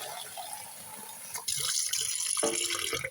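Water from a tap, first a softer trickle, then a sudden stronger gush that keeps pouring steadily and close, splashing as it fills, with no talk.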